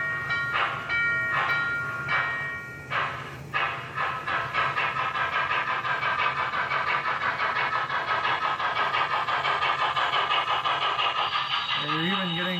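An MTH HO scale 611 Class J steam locomotive model with Proto Sound 3.0 plays rapid, rhythmic chuffing over a constant mechanical whir, ending in a rising brake squeal; a voice talks over it.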